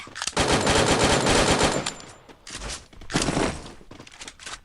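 Rapid bursts of automatic gunfire in a shooter video game, loud and close, coming in dense rattling volleys separated by short gaps, with no talking.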